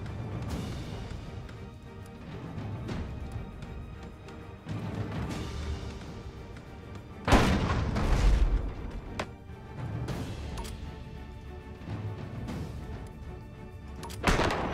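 Ship guns fire during combat in Abandon Ship, giving a string of scattered booms and crashes. One heavy, close impact stands out above a busy backdrop of battle noise.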